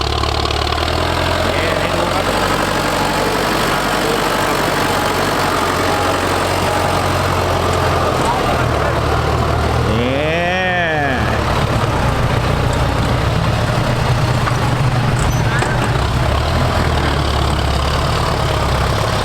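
Ford 6600 tractor engine running steadily at close range, a loud continuous rumbling idle with a brief rev or passing whine partway through, with no talk.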